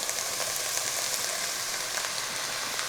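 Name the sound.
sausage frying in cast iron pot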